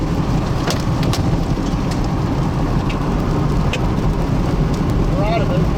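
Baseball-sized hail pounds a car during a tornado in Illinois, a loud, dense, continuous drumming with sharp clicks, while people talk over it.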